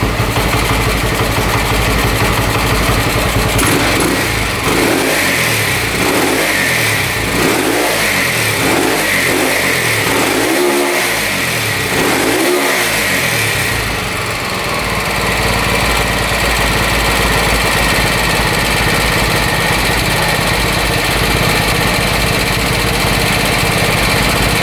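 A 1970s Harley-Davidson motorcycle engine, first start in years after sitting, runs loud and close with a rough, uneven idle, then a burst of rapid throttle blips and revs before settling back into a steady, rumbling idle.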